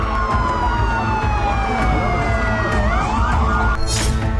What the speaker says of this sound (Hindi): पूरे शहर में फायर ब्रिगेड की गाड़ियां और एम्बुलेंस के सायरन का शोर गूंज रहा था।